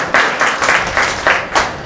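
Clapping from a crowd at an alumni gathering, applauding Sundar Kumar. It is loud and close, with a dense, even patter that pulses in rhythmic waves.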